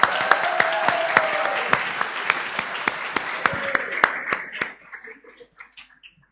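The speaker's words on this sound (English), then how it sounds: "Please give her a round of applause." An audience gives a round of applause at a talk, dense clapping with sharp individual claps standing out, fading and thinning toward the end, with a voice speaking over it.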